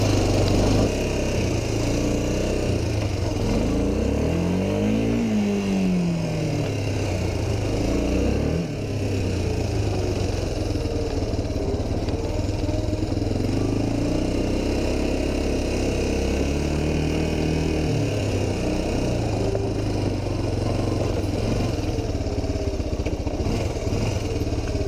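A Honda 250 quad engine fitted with a Chinese carburetor runs steadily and close by for the whole stretch, its mid-pitched drone rising and falling as it revs and shifts smoothly.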